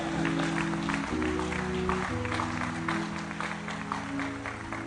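A church congregation claps together after a scripture reading, a steady moderate wash of applause with no one talking over it, lasting a few seconds.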